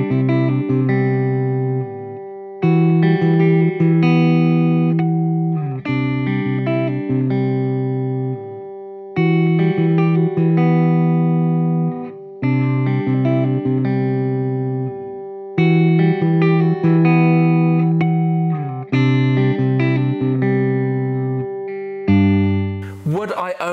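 Epiphone Zakk Wylde Buzzsaw Les Paul Custom electric guitar played with distorted metal tones, repeated chugging riff phrases with ringing sustained notes, loud and close, separated by short gaps.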